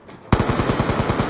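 Dragon Fire killstreak in a video game: after a brief hush, rapid machine-gun fire breaks in suddenly and continues as a fast, loud, evenly spaced burst.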